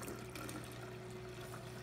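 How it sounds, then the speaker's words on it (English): Water running steadily from a tap into a sprouting jar holding a cup of quinoa, a soft continuous rushing fill with no voices. "fill it full of water"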